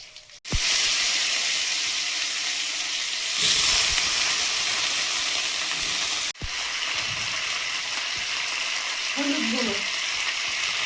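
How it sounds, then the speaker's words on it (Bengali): A halved dried red chilli and nigella seeds hit hot oil with a sudden, loud, sustained sizzle. The sizzle swells briefly, drops out for an instant, then resumes, and a faint voice is heard near the end. "তেলে একটা শুকনো লঙ্কা হাফ করে দেব কালো জিরে"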